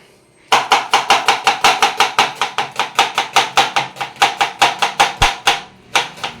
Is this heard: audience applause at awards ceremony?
no